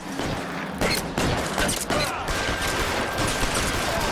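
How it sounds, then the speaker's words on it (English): Rapid gunfire in L.A. Noire, a 1940s Los Angeles detective game, a close, loud fusillade of overlapping shots and rattling bursts that runs continuously for several seconds. "What are you shooting at?"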